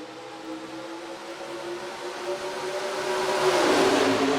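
A field of NASCAR stock cars, Pontiacs among them, roaring together at the green flag in the NASCAR Racing 2003 video game at Atlanta, engines building and swelling louder toward the end with no talk.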